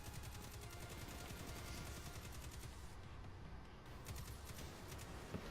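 Gunfire in a Destiny 2 beta firefight: a faint, steady stream of rapid shots rattling on without pause, distant and low in level.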